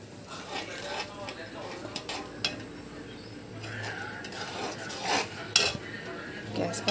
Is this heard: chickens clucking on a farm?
no